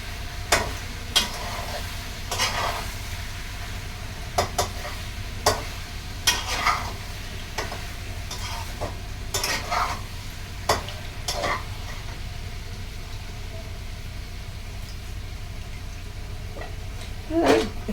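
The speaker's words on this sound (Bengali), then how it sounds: "মশলাগুলো কষিয়ে নিই।" Spices sautéing in ghee with asafoetida in a pan for a paneer dish, a soft steady sizzle broken by repeated sharp clinks and scrapes of a spoon stirring, close and moderately loud, with no talking.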